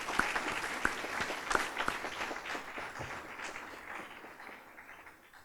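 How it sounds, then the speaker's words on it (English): An audience at a change of command ceremony at Lajes Field in the Azores applauds a performance, a dense wash of clapping with a few sharp nearby claps early on, fading gradually toward the end. "So I think we need to offer a round of applause for that performance"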